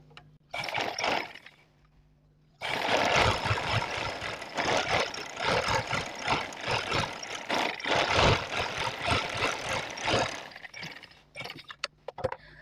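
Sewing machine stitching the side seam of ladies' pajama pants, a short burst of whirring, a pause, then a long steady run of close mechanical stitching with slight rhythmic pulsing before it stops.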